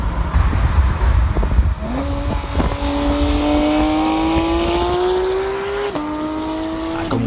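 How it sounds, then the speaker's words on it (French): A 2017 Porsche 991.2 GT3 six-cylinder engine revs up while driving, rising in pitch in one long pull, shifting, then pulling again. The sound is loud and close, with road and wind noise underneath. "Comme on peut l'entendre, le son y est beaucoup dans le plaisir de conduite de cette voiture"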